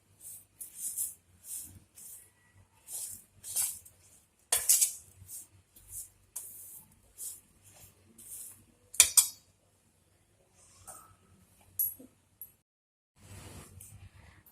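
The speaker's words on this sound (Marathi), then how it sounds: "आता हे सर्व मिश्रण मिक्स करून घेते मी." A spoon scrapes and clinks against a bowl while sesame seeds and jaggery are stirred together for sesame laddoos, making irregular light taps and rustles with short silences between strokes.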